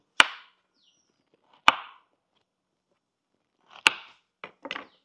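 Sharp knife strokes chopping onion on a cutting board, three loud isolated chops spaced over a second apart, then a quicker cluster of lighter cuts at the end, with no talking.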